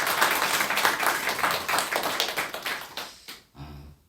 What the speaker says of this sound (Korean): 큰 박수 한번 우리 드리겠습니다.